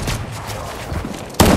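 Gunfire in Fortnite, a rattling burst of shots through the clip followed by a sudden louder blast near the end, close and harsh.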